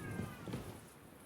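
A single short cat meow sounds in the medieval game Kingdom Come: Deliverance II, moderately close and clear, with no talk over it.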